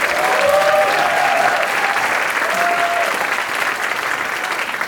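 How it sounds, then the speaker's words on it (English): Loud, sustained applause from an audience after a film screening before a panel, dense clapping at close range for about five seconds, with a faint whoop or two rising briefly through it. "another round of applause for that great film."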